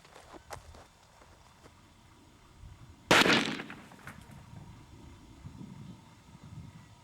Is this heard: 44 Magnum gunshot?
yes